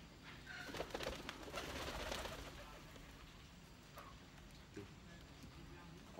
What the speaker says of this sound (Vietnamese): Có vài con bồ câu vừa bay qua đầu mình